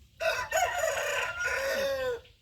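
A yellow, white-tailed rooster crows loudly nearby in one long drawn-out call, followed by softer clucking from the chickens.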